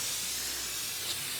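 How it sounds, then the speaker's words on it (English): Pam cooking spray hisses onto a backyard grill grate in a steady, continuous spray, faint and alone, with no talking. "I got some Pam. I'm gonna just spray"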